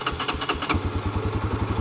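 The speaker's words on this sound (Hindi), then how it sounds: "Bike starts." A New Asia Titan 300 motorcycle engine starting: a quick cranking chatter catches into a fast, loud, close-up throbbing idle with an even pulsing rhythm.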